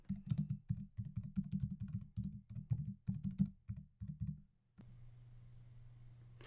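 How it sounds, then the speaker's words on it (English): Rapid, close clicking of keys on a computer keyboard while a title is typed into a desktop layout program, steady and quiet for about four seconds before stopping, then only faint room hum. "Type in your title."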